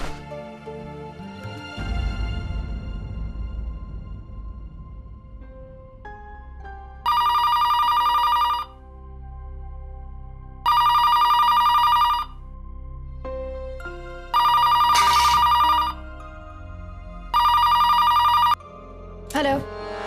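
A telephone ringback tone sounds during an outgoing call, with four long, loud electronic rings separated by pauses, following a burst of dramatic background music and dialing tones.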